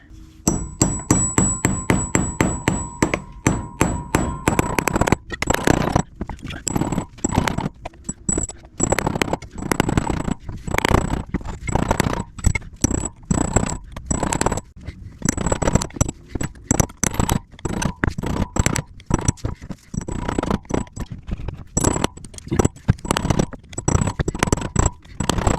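Rapid, loud metallic hammer blows ring out steadily while an old bushing is driven from an industrial diesel mower, with short breaks between runs of strikes.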